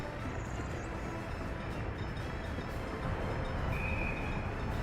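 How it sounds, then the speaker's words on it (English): A train rolls along in the city-building game Workers and Resources, heard as a continuous dense rumbling clatter of wagons that stays level and fairly loud, with a faint whistle-like tone briefly near the end. "I forgot to divert that train."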